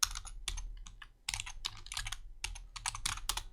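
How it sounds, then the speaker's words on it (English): Rapid typing on a computer keyboard, close and clear, with bursts of keystrokes separated by brief pauses against a quiet background. "So just type in laptop computer."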